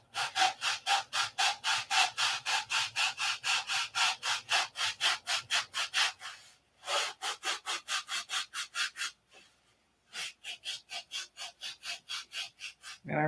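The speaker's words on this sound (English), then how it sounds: "And it sands a perfect airfoil." Rhythmic back-and-forth strokes of sanding a model P-47 airplane flap into an airfoil shape, a fast steady rasping pattern that pauses briefly twice before resuming, close and fairly loud with no talking.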